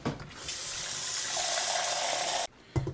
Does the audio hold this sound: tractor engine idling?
no